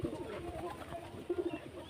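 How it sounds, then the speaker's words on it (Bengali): A local domestic pigeon gives a few soft low coos, faint and brief against a murmur of background noise and voices. "পায়রা দেশি পায়রা"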